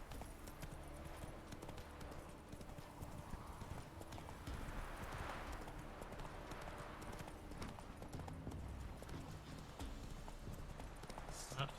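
Hooves clip-clop steadily as a horse gallops through The Witcher 3 video game, a continuous rhythmic beat under game ambience, with a brief whinny and a voice speaking faintly over the ride.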